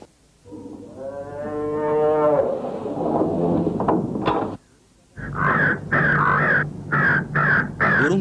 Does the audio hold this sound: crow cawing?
yes